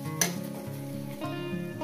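Fish curry with coriander leaves sautés in a pan, giving a steady close sizzle with a brief sharp utensil clink early on and soft stirring scrapes.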